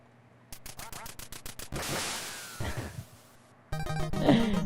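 Quacking ducks and sharp gunshot bursts from an NES duck-shooting video game, a rapid run of blasts followed by noisy flurries and honking quacks, loud and close with game music underneath.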